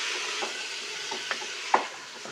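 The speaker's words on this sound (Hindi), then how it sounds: "अब हम इसे थोड़ा सा भून लेंगे अपने प्याज़ों को।" About 250 grams of onions fry in ghee in a pan, giving a low steady sizzle with a few soft stirring clinks, close and without voices.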